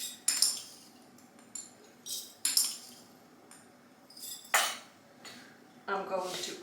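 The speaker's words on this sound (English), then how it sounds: "we're going to add a teaspoon of mixed peppercorn, teaspoons each" A metal spoon scrapes and clinks against glass pickle jars in short bursts as mixed peppercorns are measured out, with scattered rattles and taps at close range and a few quieter gaps between scoops.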